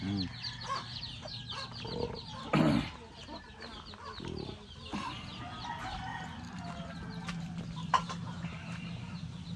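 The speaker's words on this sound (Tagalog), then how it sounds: "Yung mga breeding na manok dito." Breeding chickens cluck steadily on a farm, with a rooster crowing among them and other poultry calls; the flock sounds close and busy, with brief faint voices in the background.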